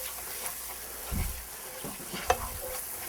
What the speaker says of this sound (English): We'll thicken that up again. Get that happening, stir it in.